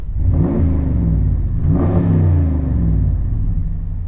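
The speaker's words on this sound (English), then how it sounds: "It also has aftermarket exhaust. Not very aggressive, but sounds good." A 2017 RAM 1500 Big Horn pickup with an aftermarket exhaust revs in a steady, mellow rumble, rising twice in pitch around the middle before settling, close and continuous with no talking.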